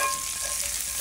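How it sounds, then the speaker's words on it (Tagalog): A well-done steak frying over a wood fire gives a steady, close hiss and sizzle that carries on without a break, with no one speaking. "Ito na yung ating steak na well done. Lutong kahoy."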